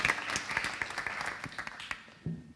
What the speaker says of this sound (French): Merci, on vous applaudit.